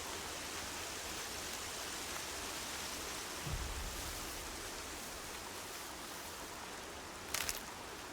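Steady rain in the video game Horizon Zero Dawn hisses as a constant, even wash of noise throughout, with a couple of brief thumps and no talking.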